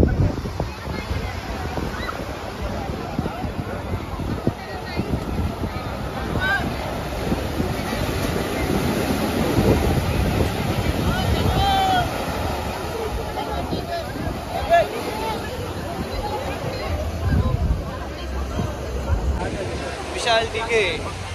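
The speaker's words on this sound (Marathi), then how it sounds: "तुम्ही फक्त गोव्याच्या समुद्राची मजा घ्या" Sea waves wash and roll continuously along a Goa beach, a broad surf roar under gusty wind buffeting the microphone, with faint voices in the background.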